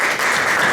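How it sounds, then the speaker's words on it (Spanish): A short burst of dense audience applause greets a speaker at a formal lecture on Mexico's national anti-corruption system. The clapping is steady and fairly loud throughout, with no voices over it. "Lo recibimos con un fuerte aplauso,"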